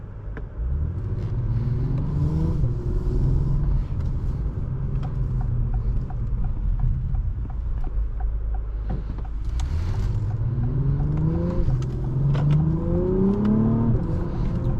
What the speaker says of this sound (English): The engine in these, the engine sounds so good.